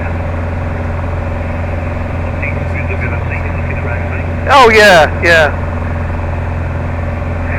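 Motor glider engine running in flight, a steady low droning hum throughout, with a brief spoken remark near the end over the engine.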